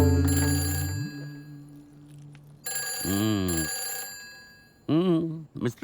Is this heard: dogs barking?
no